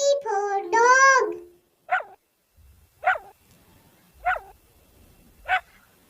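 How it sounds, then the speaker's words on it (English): A dog gives four short, sharp barks spaced about a second apart after an opening long whining call, heard fairly close against a quiet background. "D for dog."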